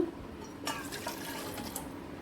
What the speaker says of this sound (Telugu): ఇప్పుడు గ్లాస్తో నీళ్లు తీసుకోండి